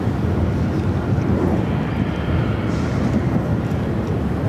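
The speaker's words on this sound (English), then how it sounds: "Plane taking off, Southwest Airlines, heading to Dallas Love Field, Southwest Airlines, flight 167 is 737-800." A Southwest Airlines Boeing 737-800 takes off, its jet engines producing a loud, continuous broadband roar that holds steady from start to finish.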